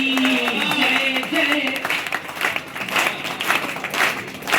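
Crowd at a Hindi-language political or devotional rally chanting and clapping along in rhythm, loud and close, with voices and a sustained tone running through the first half before the claps dominate.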